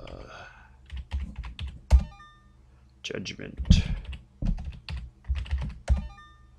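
Bursts of clicky keystrokes on a computer keyboard during a typing game, quick irregular clusters of taps close by, interleaved with a person talking.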